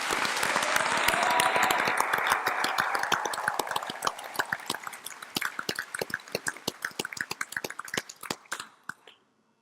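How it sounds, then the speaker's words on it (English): A large audience at a university graduation ceremony applauds the graduating class of 2017, loud and dense at first, then thinning into scattered claps before fading to silence. "may I request you all to give a huge round of applause to the class of"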